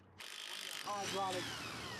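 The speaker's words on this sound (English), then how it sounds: "I have an impact wrench which makes it much quicker, as you can see, to get off these lug nuts" An impact wrench loosening lug nuts on a car wheel during a flat tire fix: a loud, steady rattling whir starts after a brief quiet moment and carries on to the end, with a tonal ring partway through.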